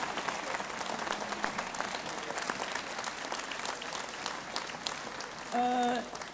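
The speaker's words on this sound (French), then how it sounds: "on peut les applaudir" A crowd applauds steadily throughout, dense clapping filling the space, with a brief tonal chime near the end.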